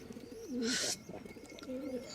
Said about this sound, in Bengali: এই যে আমার উপরে একটা আদান ব্রিডের কবুতর, এই যে বাচ্চা খাওয়াচ্ছে